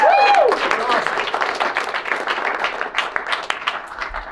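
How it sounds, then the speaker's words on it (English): Crowd applause at a motivational seminar, loud clapping and cheering starting under a vocal whoop, then a sustained, fairly close patter of many hands that gradually thins out. "Give yourselves a huge round of applause"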